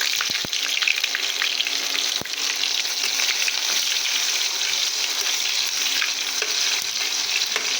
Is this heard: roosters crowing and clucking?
no